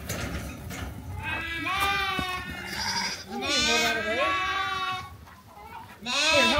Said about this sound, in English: Look up there, lambs.